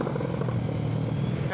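A motorcycle exhaust rumbles steadily and loudly during a night ride, a continuous low engine drone with faint clatter, close to the rider.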